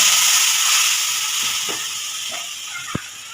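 Ginger and poppy seed paste hits hot oil tempered with bay leaf and five-spice in a Bengali shukto, giving a steady close sizzling hiss that slowly fades, with a few faint utensil taps.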